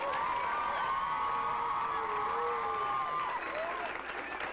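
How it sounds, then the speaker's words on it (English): A crowd at a Memorial Day children's event in Indianapolis applauds and cheers for the armed forces, with clapping under whoops and raised voices, including children shouting. "Give all of our armed forces a round of applause."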